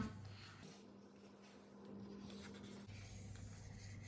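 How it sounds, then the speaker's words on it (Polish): A pencil drawing a pumpkin pattern on a sheet of paper, a soft continuous scratching and scribbling close by against a low steady hum. "Będę rysował na kartce, jak będzie wyglądała ta dynia."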